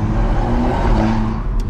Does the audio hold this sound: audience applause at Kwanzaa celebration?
no